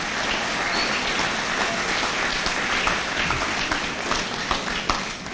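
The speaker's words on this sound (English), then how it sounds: "Please, round of applause." A crowd at a school promotion ceremony breaks into sustained applause, dense continuous clapping from many people that holds steady before tapering slightly at the end.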